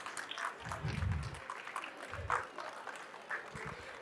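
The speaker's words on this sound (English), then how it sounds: "Louder round of applause." Parents at a school annual day applaud teachers on stage, giving faint, scattered clapping from a distance with low thumps and background murmur.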